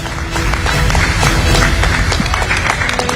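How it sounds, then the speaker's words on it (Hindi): An audience applauds a guest invited onto the stage at a televised Hindi music and talk event, with steady dense clapping throughout and some crowd noise mixed in. "तालियों की गड़गड़ाहट के साथ इनका स्वागत कीजिए।"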